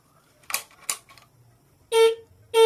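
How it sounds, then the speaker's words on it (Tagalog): A car horn honks twice, two loud steady blasts separated by a short pause, preceded by a few faint clicks. "May supply na yung ating busina."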